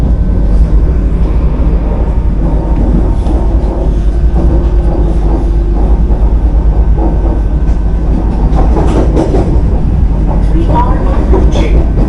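Vande Bharat express 20634 running on rails in Kerala, heard from on board as a steady loud rumble with rattling and clattering throughout, a faint voice surfacing now and then.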